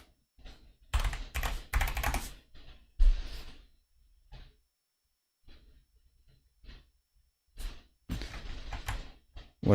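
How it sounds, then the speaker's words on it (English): Bursts of fast typing on a computer keyboard, close and clear, arriving in several clusters separated by short silent gaps. "Classic me typing my fat finger on keys that I shouldn't be typing."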